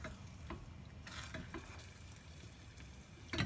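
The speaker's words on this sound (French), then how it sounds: "Donc on remue toujours." A tomato and mozzarella risotto simmering over medium heat is stirred in the pan, giving soft, faint scraping strokes over a low bubbling sizzle, with a slightly louder scrape at the end.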